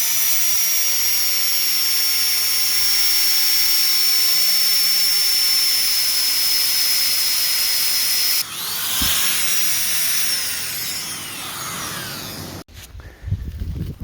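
A Stihl 028 Wood Boss chainsaw with ground-off safety drags and a rich-running carburetor, revving at a loud steady high whine up close, then dropping and sputtering before cutting off.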